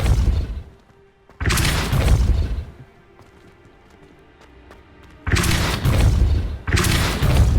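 Confringo and Depulso spell blasts go off in Hogwarts Legacy on Xbox Series X, each a loud, dense booming burst with a thumping impact. A quieter rumbling stretch with faint rattles lies between the two blasts.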